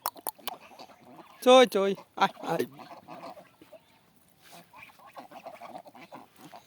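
Domestic geese on a farm give a few loud, close honks in a short burst, followed by quieter chatter and someone talking.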